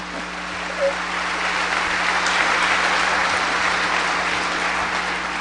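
A lecture audience claps steadily, a dense continuous wash of applause filling the whole stretch without any talking.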